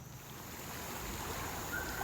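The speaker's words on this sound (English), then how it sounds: "we had lots and lots of rain and the creek flooded" A creek swollen by flooding after heavy rain rushes past in a continuous, broad roar of moving water, steady and fairly close with no talking.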